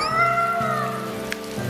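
A cat in the video game Tales of Berseria gives a drawn-out meow, loud and close, over soft game ambience, with a faint tick near the end.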